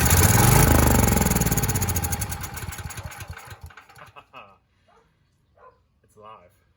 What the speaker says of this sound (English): let's see if we can get any smoke out of her